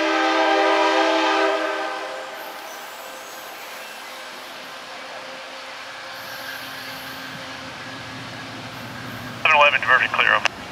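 A CDTX 2006 train departs, its horn sounding loud at the start with a sustained multi-tone blast that fades out, then track rumble, with brief radio-like chatter near the end.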